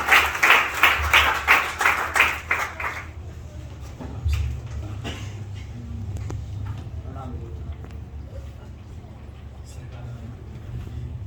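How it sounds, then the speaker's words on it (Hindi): An audience at a motivational talk bursts into loud, dense applause that fades within about three seconds, leaving quieter room sound and low rumble. "मैं आपकी जोरदार तालियों के साथ माइक देता हूं"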